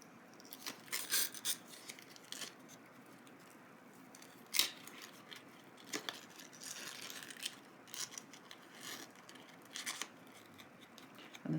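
Scissors snipping through paper for a 12x12 scrapbook page layout, a quiet run of short crisp cuts in irregular bursts, close up with no talking.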